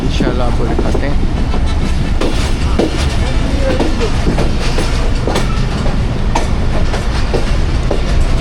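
A train rumbles and clatters loudly and continuously as the Hazara Express crosses the 146 Sukkur Express, the steady roar of wheels and carriages filling the whole stretch with occasional metallic squeals.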